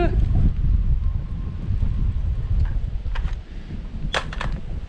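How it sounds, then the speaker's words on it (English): Gusty wind buffets the microphone outdoors at a shooting range, a loud continuous low rumble with a few faint metallic clicks near the end. "Ooh, the wind's picking up."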